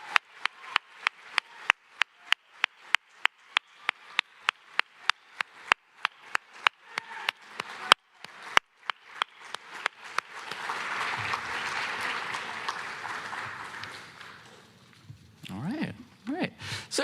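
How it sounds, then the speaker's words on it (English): Applause at a space academy graduation ceremony swells after several seconds of spaced sharp clicks, building into a moderate, steady clapping crowd that fades out near the end. "if we could give a round of applause to Cassidy from Team Acidalion."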